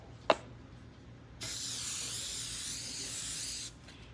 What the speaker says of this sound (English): I'm gonna spray this with a little vegetable spray.